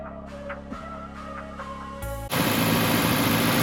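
A car engine is held at about 2,000 RPM, a loud steady drone that opens with a tonal hum and then jumps into a dense, continuous roar up close, with no talking.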